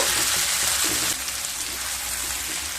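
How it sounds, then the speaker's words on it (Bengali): Onions and tomatoes fry in a pan with oil, a dense, steady sizzle that stays close and continuous, slightly softening partway through. "দিয়ে আবার পেঁয়াজ আর টমেটোগুলোকে খুব ভালোভাবে ভেজে নেব।"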